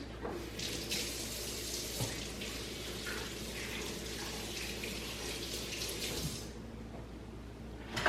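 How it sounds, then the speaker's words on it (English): Hands being washed under a running kitchen tap, a continuous close rush of water into the sink for most of the clip, cutting off near the end, with no talk. "Wash my hands."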